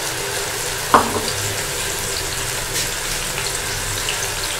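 Garlic ginger paste fries with browned onions for dhaba-style daal: a steady close sizzle hisses throughout, with a single metallic clink near the start.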